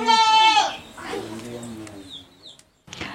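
An ordinary village goat bleats loudly and clearly once at the start, followed by quieter bleating sounds while a voice talks nearby.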